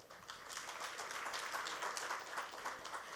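Panel audience applause fills a hall with steady, dense clapping from many people that holds at an even level throughout, heard from a distance without voices over it.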